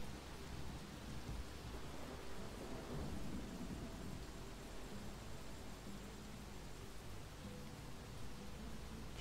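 Rain falling steadily in the video game XING: The Land Beyond, a faint even hiss with low thunder rumbling softly underneath, and no voices.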